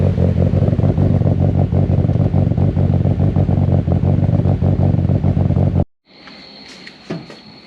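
A car engine idles after a Tomei oil baffle install, a loud, steady, pulsing thrum close by that cuts off abruptly, leaving faint clicks and a high ringing tone.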